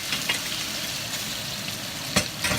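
Meat and garlic frying in a pan, a steady close sizzle with occasional soft stirring clicks and scrapes, no voices.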